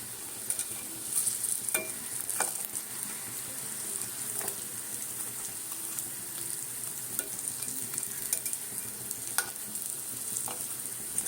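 Urad dal fritters frying in hot oil, a steady fine sizzle throughout with scattered sharp clicks and scrapes as pieces are turned over, close and even, no talking.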